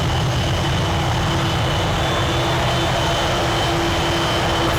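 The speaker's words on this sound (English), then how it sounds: "I think probably you can hear the Vulcan howling." Avro Vulcan bomber engines in a flight simulator, a steady broadband jet roar with a sustained tonal whine running through it, loud and continuous with no talking.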